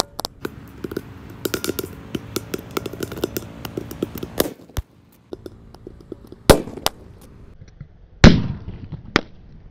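Rapid crackling bursts of firecrackers pop in a dense string inside a pot, then a pause followed by a few loud, sharp separate bangs.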